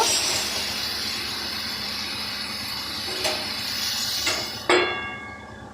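Bathua greens sizzle in hot oil with five-spice, green chilli and garlic: a steady broadband hiss throughout, with a few brief clinks and a louder scrape near the end.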